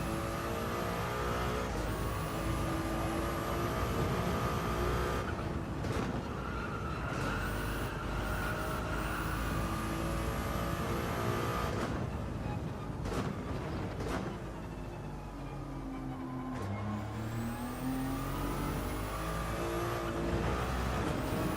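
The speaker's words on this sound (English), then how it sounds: "I hear a car just up ahead" A race car engine in the video game Gran Turismo 7, during a Nürburgring 24-hour race, roars and revs repeatedly, pitch climbing through gear shifts then dropping, loud and continuous with brief cuts between passages.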